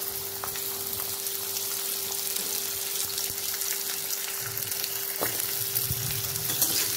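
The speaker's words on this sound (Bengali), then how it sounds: "গাজরগুলো দিয়েও আমি একটু হালকা করে ভেজে নেব।" Carrots frying lightly in a pan of oil, an even close sizzle that runs without a break, with faint kitchen clinks and no talk.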